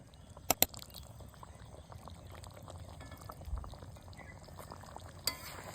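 Mutton chusta with garam masala paste is stirred in a pan, a faint bubbling simmer broken by a couple of sharp utensil clicks near the start and one near the end.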